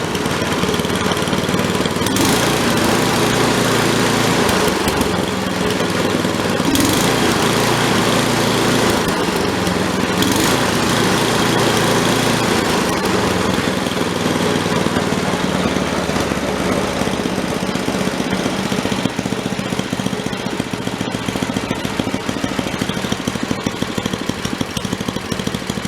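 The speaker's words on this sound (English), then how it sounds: "Notice that it idles pretty good now." An Ariens ST 828 snowblower engine idles steadily after repairs, a loud, even mechanical drone that runs unbroken throughout with no other sounds.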